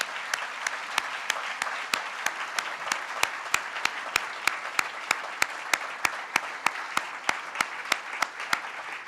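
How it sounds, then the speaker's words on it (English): Audience applause for global entrepreneurship ambassadors at a speech by President Obama, a sustained, even round of clapping with sharp camera-like clicks ticking at regular intervals throughout. "I want to just give them a big round of applause"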